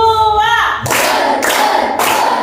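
Children clap a counted clapping pattern in a classroom after a sung or chanted phrase, giving three sharp, loud, evenly spaced group claps about half a second apart.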